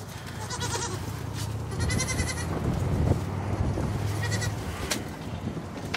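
Goats bleat loudly and close by during a goat migration from Arizona to Colorado, with several overlapping calls over a steady outdoor rumble and no talking.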